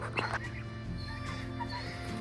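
A homestead chicken gives a few short clucks up close, over a constant low background hum.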